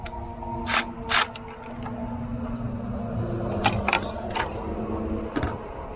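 Ratchet work on the bolts of a water outlet on a 2011-2016 Chevy Cruze, with a few sharp metallic clicks and clanks scattered over a steady low hum, close and moderately loud.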